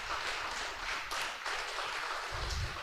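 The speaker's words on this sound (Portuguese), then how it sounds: "Dê um aplauso ao Senhor" Church congregation applauding during a sermon, a moderately loud burst of many hands clapping in uneven swells, with a low thump near the end.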